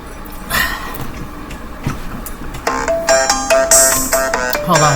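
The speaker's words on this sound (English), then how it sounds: "Hold on, my phone's ringing." A phone ringtone chimes in repeated melodic bursts, loud and close, with some background rustling before it starts.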